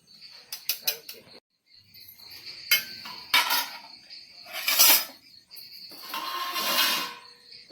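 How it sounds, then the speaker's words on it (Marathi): Hands squeeze water out of chopped bharangi wild greens, making close, wet squelches and crackling leafy crunches in separate bursts with short quiet gaps between them. "त्याचा पाणी पिळून काढायचं या बघा अजून एकदा पिळू किती हिरव्या हिरव्या पाणी आहे"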